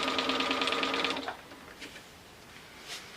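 Sewing machine running steadily while stitching a zippered project bag with back stitching, a loud continuous whir for just over a second, then stopping, leaving only faint room noise.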